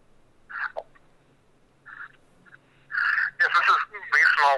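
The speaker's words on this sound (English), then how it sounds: "my call waiting is beeping through your phone call" Electronic call-waiting beeps cut through a radio phone-in line, several short tonal pips in a rough sequence, thin and telephone-filtered, heard alone without talk.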